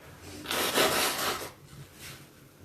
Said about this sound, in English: I know you guys won't mind if I blow my nose and wipe my eyes